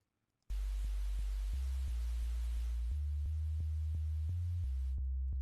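A deep synth sub bass throbs in a steady pulsing rhythm beneath a constant wash of loud white noise, starting abruptly after a short silence.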